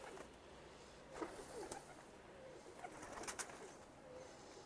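Pigeons of a high-flying tumbler breed are released to fly, with faint scattered coos and wing flutters against a steady outdoor hiss, distant and quiet, without talk.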